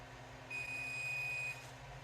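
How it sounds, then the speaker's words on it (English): A steady electronic beep tone from a model rocket flight computer holds for about a second over a low background hum, then stops, during a ground test. "it's indicating beeping out 0 feet for launch"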